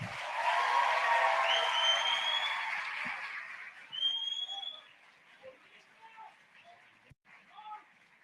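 A crowd at a corporate marketing event claps loudly in welcome for the Gillette Venus and King C Gillette brand director. Shrill whistles rise above the steady applause, which fades over several seconds into quieter room noise and scattered sounds.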